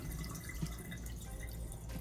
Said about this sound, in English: Okay, then we're going to turn that water off, let that drain out.